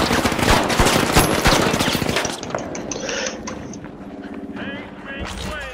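Rapid gunfire from a weapon in the shooter game The Finals, a loud dense burst for about two seconds, then quieter scattered game effects and a voice talking underneath.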